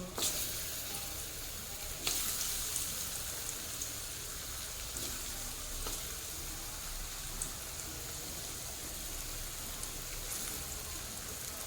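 Potatoes fry in hot oil seasoned with salt and a little turmeric, a steady close sizzle with a few louder pops, with no talk over it.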